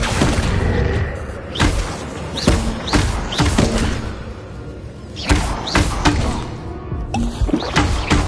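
Spell effects in the Hogwarts Legacy game, including Confringo and Accio, land as a series of loud, close thumps and whooshing blasts at irregular intervals amid game ambience, with no voice over them.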